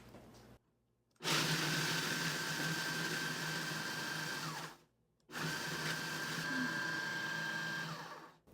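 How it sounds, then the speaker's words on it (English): A food processor pulses graham crackers into fine crumbs, with two long loud whirring bursts, each a few seconds, separated by brief silent pauses. "We're going to pulse this until we have fine crumbs."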